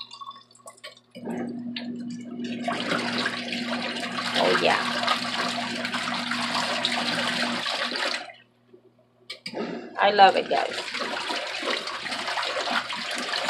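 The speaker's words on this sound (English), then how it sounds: "And that's the washing machine now, guys." A portable washing machine churns water steadily with a low motor hum, stopping briefly before resuming; a voice speaks over it near the end.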